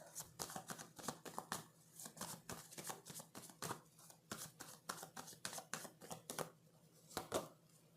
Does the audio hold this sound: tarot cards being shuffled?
yes